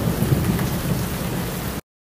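Heavy tropical-storm rain pours down steadily in Santo Domingo, a loud, dense hiss with low rumbles of thunder rolling beneath, no voices, ending abruptly.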